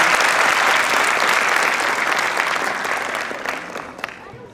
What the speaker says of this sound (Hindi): एक जोरदार तालियां युवाश के लिए।